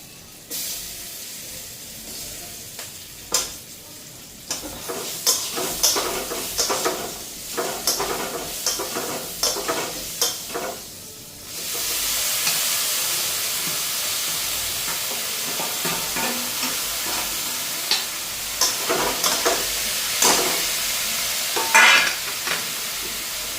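Potatoes frying in turmeric-tinted oil and stirred, with repeated scraping strokes over sizzling; partway through the hiss swells into a loud steady sizzle as the pan heats, with stirring clatter continuing on top.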